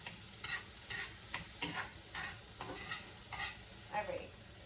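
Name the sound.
pancakes frying in butter in a pan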